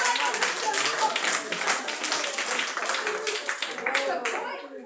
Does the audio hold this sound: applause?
yes